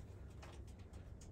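Pigeons coo softly inside a breeding coop where some birds sit on eggs, a faint, low murmur of several birds with a few brief louder rustles over steady background hum.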